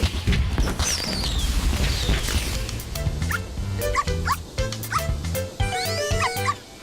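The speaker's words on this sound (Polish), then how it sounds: "Dlaczego ten łoś szczeka?" A moose in the Littlest Pet Shop video game barks like a dog, giving a string of loud yips and whimpers over game music and effect sounds, with a brief voice in the mix.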